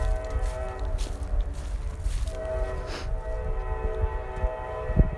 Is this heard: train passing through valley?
yes